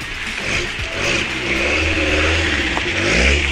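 An Alpine A310 engine revs close by, its pitch climbing and falling in a throaty drone with mechanical clatter and a whine. Rumble builds toward the end, and no voices are heard.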